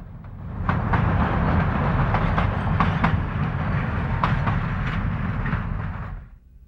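Cumbres and Toltec steam train hauling passenger coaches rolls past, a loud steady rumble with rhythmic clickety-clack of wheels on rail joints that fades at the end, with no talk.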